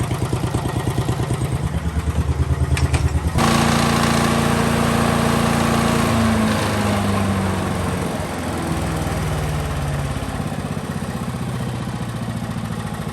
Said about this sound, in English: 5 horsepower MTD chipper shredder